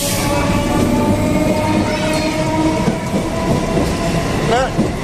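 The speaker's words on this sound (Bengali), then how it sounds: "ট্রেন যাচ্ছে" A train rumbles past close by a roadside food stall, a loud continuous roar with rattling wheels and a short high squeal near the end.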